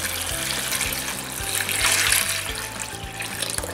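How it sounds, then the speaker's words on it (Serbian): Water pours steadily into a pot of jars of roasted peppers with garlic, the jars set on a cloth for pasteurizing, a continuous close splashing fill heard alone. "I nalijemo vode. Vode nalivamo do poklopca gore."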